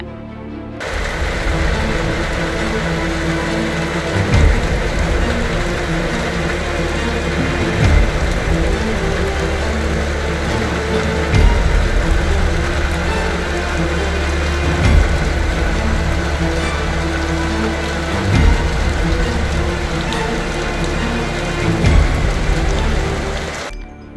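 Steady, heavy rain pours down continuously, with occasional louder gusts or surges swelling every few seconds; no voices.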